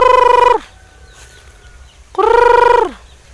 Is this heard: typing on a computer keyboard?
no